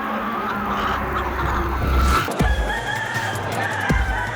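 A rooster at a Balinese cockfight crows and clucks amid steady crowd noise, with a couple of sharp thuds cutting through the busy background.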